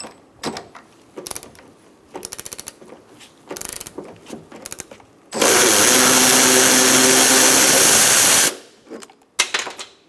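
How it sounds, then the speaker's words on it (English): The top strut bolt on a 2004-2009 Mazda 3 comes out with short bursts of ratcheting, then a loud, steady power-tool whir lasting about three seconds before it cuts off, followed by a few light clanks. "take out this bolt up top"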